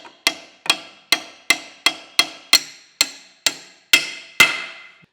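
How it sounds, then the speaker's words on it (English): A small bronze hammer taps chrome-plated rods into place on a Sellers 6G drill grinder fixture, eleven sharp metallic strikes at an even pace, close and loud with brief ringing after each blow. "And I got a little bronze hammer here."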